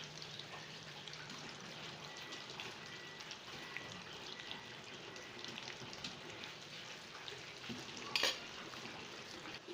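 Potato and egg patties sizzle steadily in hot oil in a pan, a continuous bright frying hiss with occasional small pops and one brief utensil clatter near the end.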